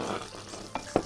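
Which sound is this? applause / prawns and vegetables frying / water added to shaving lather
prawns and vegetables frying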